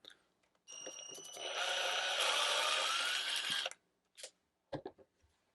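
An Altocraft 20V lithium-ion cordless drill whirs loudly for about three seconds driving a small screw, its motor pitch rising as it spins, followed by a few short clicks and handling taps.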